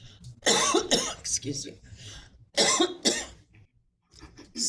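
A woman coughs in repeated harsh bursts after water went down the wrong way, spluttering loudly and close to the microphone, with a brief spoken apology in between.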